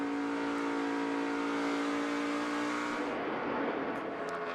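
NASCAR stock cars roar past on an oval track at Atlanta, a loud sustained engine drone that rises, then falls away as the pack passes, with no talk over it.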